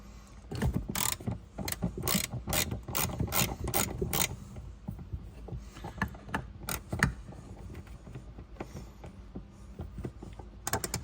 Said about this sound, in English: So this bolt here is relatively easy. It is a 17 socket. So let's take that off.